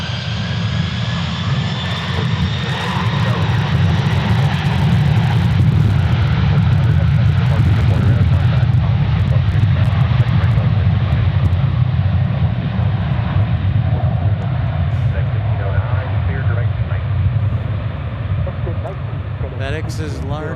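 Aircraft engines at Memphis International Airport, the FedEx cargo hub, drone loud and continuous as a plane rolls by, its roar rising and then easing off with a slowly falling whine.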